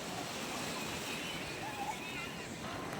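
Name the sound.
ocean waves at the beach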